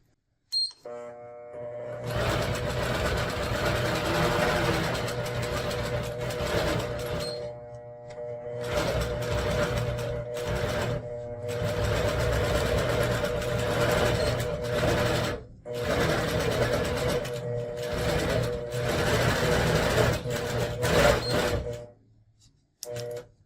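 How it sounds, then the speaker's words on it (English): A longarm quilting machine stitching binding onto the edge of a quilt, a steady rapid mechanical hum running in several long bursts with brief pauses between them, close and alone. "sew the rest of this space down to add the binding to the edge of your quilt project"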